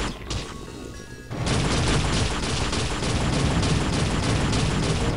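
Weapon fire in the Unreal first-person shooter, a dense continuous barrage of crashing, thudding shots after a brief lighter burst, loud and steady for several seconds.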